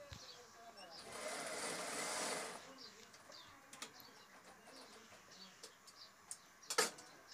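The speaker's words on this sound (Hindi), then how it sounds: "दोनों बाजू सिला के पूरे करते हुए" A sewing machine stitches the sleeves of a ladies suit, a steady whirring run for a couple of seconds, followed by quiet scattered ticks and clicks, with faint birdsong in the background.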